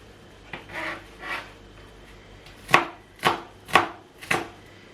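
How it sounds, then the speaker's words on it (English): A knife chops an onion on a cutting board, with a few soft strokes followed by four sharp, evenly spaced thuds, close and clear with no talk. "Then I continue chopping my onion"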